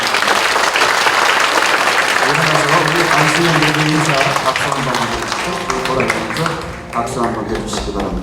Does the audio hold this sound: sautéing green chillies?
no